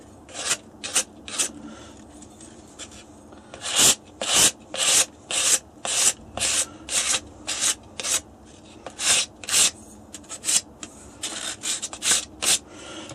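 A Bisley adjustable butt pad plate is sanded by hand to fit an HW97KT synthetic stock, giving a rhythmic run of close, raspy rubbing strokes, each about half a second long, with short pauses between them.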